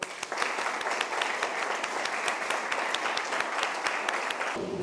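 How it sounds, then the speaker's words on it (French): An audience at a karate and Kyokushinkai event applauds steadily, a dense wash of many hands clapping for several seconds before it cuts off near the end. "merci à Mathieu, c'est bien défendu, donc on peut l'applaudir."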